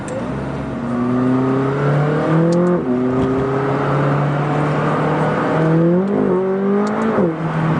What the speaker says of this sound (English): I was doing 60 miles an hour just there and spun the tires